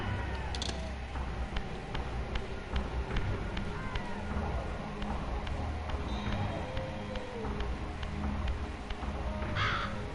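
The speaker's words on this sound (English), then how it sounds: "There's a bird." In the video game Legacy of Kain: Soul Reaver, a crow caws in harsh repeated calls over a dense, rumbling game soundscape, steady and moderately loud throughout with no clear talking.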